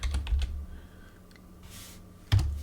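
Keys on a computer keyboard clack in a quick burst, pause through a quiet gap, then resume with another sharp cluster of taps, close to the microphone with no talking.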